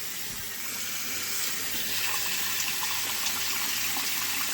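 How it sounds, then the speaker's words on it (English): Water runs steadily into a cooking pot while tomato pasta sauce is being made, a constant close hiss that swells slightly and continues alone without talk. "Put some water in here."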